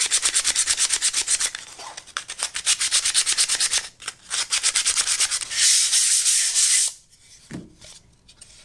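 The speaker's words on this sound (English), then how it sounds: "I'm going to clean that up with some sandpaper" Hand sanding a rough wooden floor register in a hardwood floor with sandpaper: loud, close, steady back-and-forth scratching strokes that pause briefly, then resume in longer harsh bursts.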